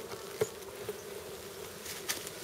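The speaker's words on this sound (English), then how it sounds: "Look at all them bees and look at all them honeys." Bees buzz faintly and steadily around an opened hive box, with a few soft knocks and clicks over the drone.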